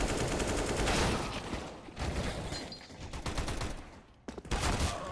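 Rapid pistol gunfire from a fast pistol-round rush on the Mirage map in Counter-Strike, dense overlapping shots crackling loudly throughout, with a brief lull near the end before more shots.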